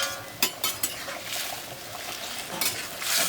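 Green chili and seeds being stirred into a Manipuri drumstick fish curry in a pan, with a few sharp scraping strokes over a steady close sizzle.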